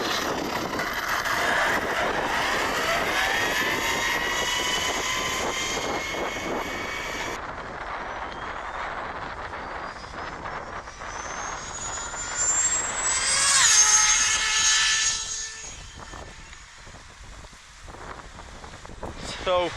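A twin-motor RC speedrun car rated at 40 horsepower races past at high speed, its loud electric whine climbing and falling in pitch as it rushes by. A second high-pitched pass follows, with faint talk underneath.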